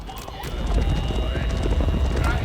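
Galloping horses of mounted Mongol horse archers in the strategy game Age of Empires IV, a dense rapid clatter of hooves with a whinny, building in loudness and continuing under a narrating voice.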